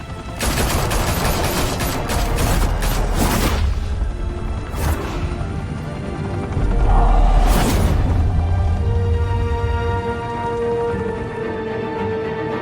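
Loud gunfire erupts in the Batman Telltale Series video game: dense rapid bursts and heavy booms overlap in a sustained fusillade, with a second surge of shots and a crash midway before it fades to lingering rumble.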